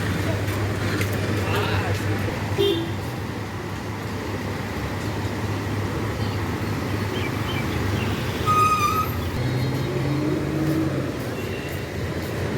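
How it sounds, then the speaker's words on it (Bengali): A bus approaches on a busy street, its low engine drone and road rumble building steadily under surrounding traffic noise, with a horn-like tone and people talking nearby. "গাইস এই বাস আসছে"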